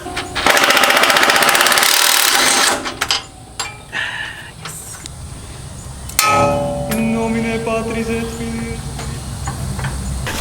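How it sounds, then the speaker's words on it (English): An impact-style power tool rattles hard in loud bursts, backing out coilover bolts on a twin-turbo car during a suspension install, then stops, with workshop clatter and a steady whine following. "we've got to take out the bolts from inside"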